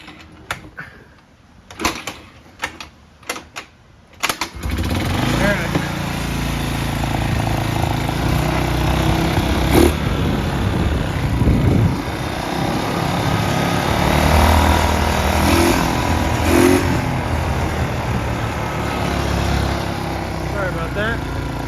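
A Chinese quad ATV engine turns over, catches after a few sharp bursts, then runs at a steady, rough idle close by for the rest of the stretch.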